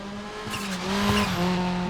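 A rally car engine revs and eases off as the throttle is opened and closed on a WRC Monte Carlo stage, the tone rising and dipping, loud and close.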